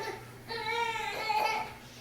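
A young child cries faintly in the distance, a short wavering wail over quiet background noise.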